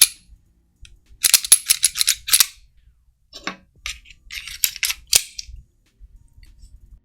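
A Sig P365XL Spectre Comp pistol handled during a safety check: sharp metallic clicks and clacks of the slide and parts in quick bursts, close and crisp against near silence.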